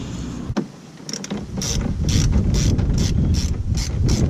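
Rapid ratcheting clicks come in a run of regular bursts as bolts are loosened around the brake area of a BMW E90, close and fairly loud, with a single sharp knock just before the ratcheting starts.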